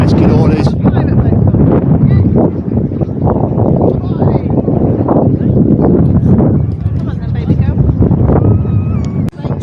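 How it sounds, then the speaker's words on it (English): Wind buffets a handheld microphone on a swing bridge near Whitby, a loud continuous rumbling roar with gusty surges across the whole stretch and no clear talk over it. "it's going to get a bit windy"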